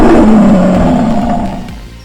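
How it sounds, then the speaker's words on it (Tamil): A lion's roar played back from a mobile phone, one loud sustained roar that gradually fades over about two seconds, heard alone. "அருணும் சாமர்த்தியமாக புலியை விரட்ட சிங்கத்தின் கர்ஜனையை மொபைலில் ஒழித்தார்"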